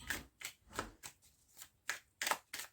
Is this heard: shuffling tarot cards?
yes